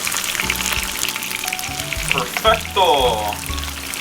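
Frozen Magnolia chicken lumpia frying in oil in a pan: a loud, continuous sizzle and crackle, with clatter and bursts of spitting as the rolls are turned, and a brief spoken word over it.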